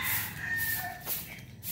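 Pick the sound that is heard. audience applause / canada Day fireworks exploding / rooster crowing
rooster crowing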